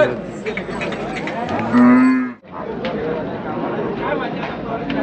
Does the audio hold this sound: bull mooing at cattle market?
yes